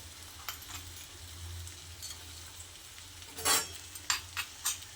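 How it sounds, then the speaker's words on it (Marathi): Capsicum and cauliflower stir-fried in a pan, a low steady sizzle broken by several sharp scraping stirs of a spoon against the metal, with no voices. "आणि जी परतून घेतलेली होती शिमला मिरची आणि फ्लावर ते टाकून द्यायचं."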